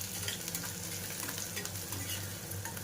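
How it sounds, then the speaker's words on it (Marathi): Garlic, onion and green chilli fry together in a pan for a spicy radish bhaji, producing a faint, continuous sizzle with light stirring throughout. "म्हणजे कांदा आणि मिरची सोबत भाजली जाते।"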